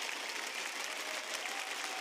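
A dense burst of applause sound effect during a Rainbow Six Siege livestream, steady clapping from a crowd filling the whole moment without pause.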